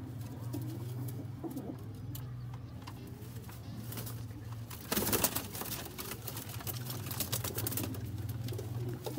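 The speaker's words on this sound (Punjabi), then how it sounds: "ਸਿਆਲਕੋਟੀ ਕਬੂਤਰਾਂ ਦੀ ਪੂਰੀ ਗੇਮ ਹੈ" Sialkoti pigeons coo in a low, steady rolling drone from a large loft flock, continuous and close, with scattered clicks and shuffles and a brief louder burst of flapping midway.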